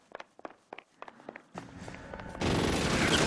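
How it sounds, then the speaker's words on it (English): A Tommy gun opens fire in the 1940s crime game LA Noire, faint footsteps and scattered shots building into a loud, continuous burst of automatic fire at the end. "Tommy gun."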